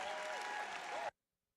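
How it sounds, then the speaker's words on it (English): An audience at a climate justice event applauds, a steady, dense wash of clapping lasting about a second before cutting off abruptly into silence. "let's give him a big round of applause"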